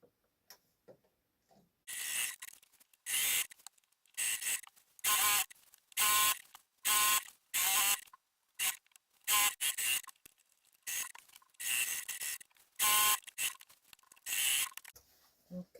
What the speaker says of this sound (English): I'm going to start stitching from the bottom because I need to leave an opening